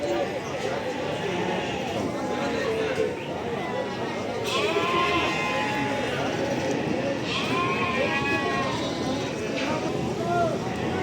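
Goats bleat in a crowded livestock market in Barda, with several wavering cries rising over a busy background of people talking.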